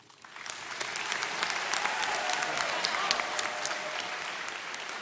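Audience applause at the 2022 Brown Deer High School graduation builds quickly from near silence into a dense, sustained wash of many hands clapping, steady and fairly loud throughout with no talk over it.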